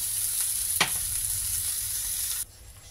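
Onions frying in a pan while chicken sauté cooks, a loud, dense sizzle with a single sharp clack of a utensil early on, then dropping abruptly to a much quieter hiss.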